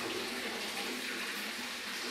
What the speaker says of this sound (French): l'eau restante s'en va par du coup ce petit tuyau là